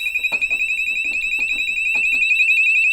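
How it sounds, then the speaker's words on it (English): A fire alarm sounder on a JSB FX2204 system goes off during a system test, a loud steady high-pitched electronic tone sustained through the whole moment with faint handling clatter underneath. "Sounder going off."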